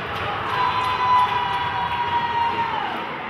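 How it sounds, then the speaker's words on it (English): A hockey arena crowd roars and cheers during a playoff fight between Battle Creek and Motor City, a steady, loud wash of voices with a sustained whistle-like tone riding through it. "Now the crowd is starting to get into it, and that's never a good thing."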